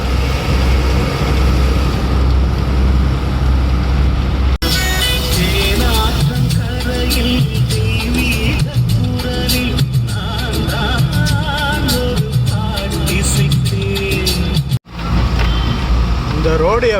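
Car driving through slow highway traffic on a bypass, steady engine and road rumble with passing vehicle noise, a person talking over it throughout.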